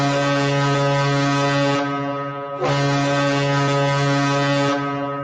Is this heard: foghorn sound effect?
yes